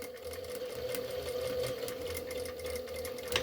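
A sewing machine runs steadily while stitching a fabric Christmas decoration, a close, even mechanical whir with a rapid needle rhythm and no talk.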